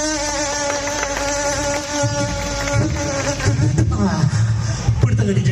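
At a festival stage show, a performer imitates a buzzing fly with a loud, wavering, nasal hum through a sound system, the drone bending in pitch as crowd noise and cheering swell underneath.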